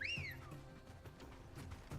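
A sharp whistle blown in a video game, one rising-and-falling shrill tone at the start, followed by soft ambient game sounds and a few faint thumps.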